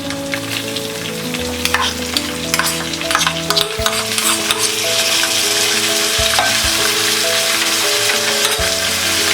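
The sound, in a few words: stirring tomato and salt frying in pan for bread upma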